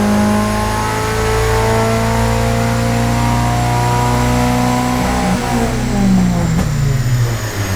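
A car engine on a dyno after a degree of ignition timing was added, holding a loud sustained rev with a strong steady tone that climbs and then falls away near the end.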